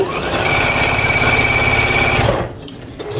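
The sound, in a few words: sewing machine stitching fabric strips together for a quilt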